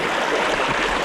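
A mountain creek in the Adelaide Hills flows with a steady, close rushing wash of water that stays even throughout, with no voices.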